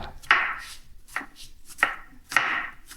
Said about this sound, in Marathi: काय मस्त आहे की कांदा कापून घेतला आहे